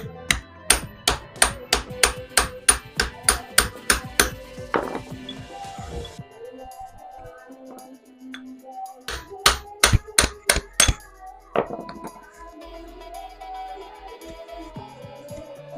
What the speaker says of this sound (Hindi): इस बारम को खोलने के लिए दोस्तों आप लोगों को छेनी और हथौड़ी की आवश्यकता पड़ेगी इस नट को खोलने के लिए।